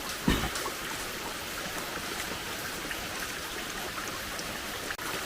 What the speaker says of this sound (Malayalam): അത്ര നല്ല മഴയാണ്